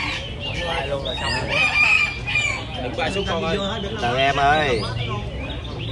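A show rooster crows and clucks at a Vietnamese beauty contest for roosters in Hóc Môn, repeated calls rising above constant chatter and announcer talk from a nearby crowd.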